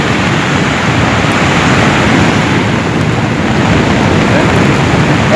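Heavy rain and swelling cold lava floodwater from Semeru, carrying rocks and material, roar as a loud, steady, unbroken wash of rushing water and downpour, close and continuous with no pauses.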